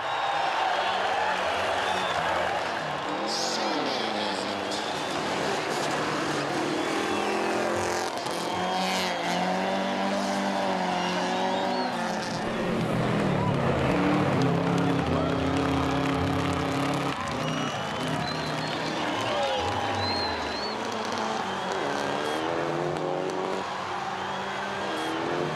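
Rally cars run a 1.2-kilometer stadium circuit at a Kenyan safari rally round, engines droning and revving continuously beneath the steady roar of a large cheering crowd, with some voices faintly mixed in.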